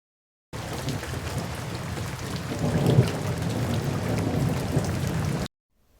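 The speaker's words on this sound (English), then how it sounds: "The rain is pouring." Heavy rain pours steadily and densely, a loud continuous hiss of drops hitting surfaces, with a low rumble of thunder swelling briefly midway.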